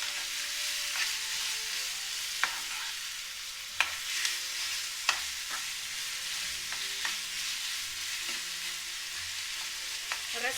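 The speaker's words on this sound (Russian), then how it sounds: "Старая сковородка, поэтому уже мешаю ложкой" Spoon stirring minced meat as it fries in an old pan: a steady sizzle with scattered scraping clicks and taps of the spoon, close and alone without talk.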